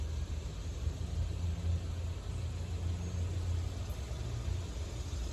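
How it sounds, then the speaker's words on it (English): An inbound SEPTA Silverliner V commuter train, a four-car set, passes as a continuous low rumble and broad wash of noise, steady and close throughout. "here we got an inbound Septa train coming."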